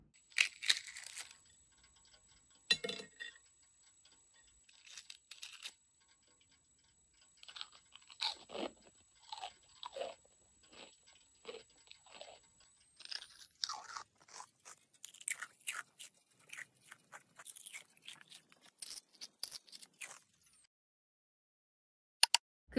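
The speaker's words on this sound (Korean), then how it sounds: "그 포춘 쿠키 씹는 소리가 되게 좋게 잘 들리더라고요" Crisp, crunchy chewing of a brittle fortune cookie, close to the ear, in bursts of bites separated by brief quiet pauses.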